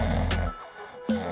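A person imitates snoring with the mouth closed, a deep, buzzing nasal rumble that breaks off after half a second, followed by a pause and then the start of another snore, close and loud.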